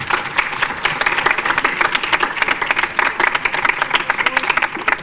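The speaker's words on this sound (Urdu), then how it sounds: "میں چاہتا ہوں کہ ایک بار خدا کے جلال کے لیے زوردار تالیاں" Loud, sustained applause from a church congregation standing to clap, dense and continuous throughout, with crowd noise and a voice briefly rising within it.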